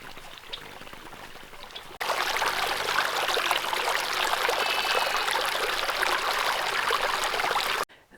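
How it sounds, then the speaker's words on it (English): A creek running with snowmelt off a valley floor in the Wyoming mountains, a quieter rush at first, then a loud steady close-up flow of trickling and pouring water that cuts off abruptly near the end. "The creek started flowing with all the snow melt coming off of the valley floor."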